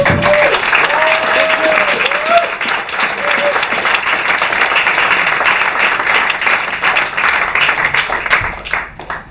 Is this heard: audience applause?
yes